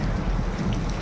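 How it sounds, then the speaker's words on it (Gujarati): Heavy rain drumming on a corrugated metal sheet roof, a dense loud clatter that is steady and unbroken, with no voices. "વરસાદનો અવાજ ઓછો છે પણ આ વધારે પડતો આ પતરાનો અવાજ આવે છે."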